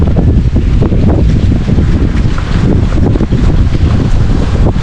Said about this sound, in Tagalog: Palakas ang hangin eh.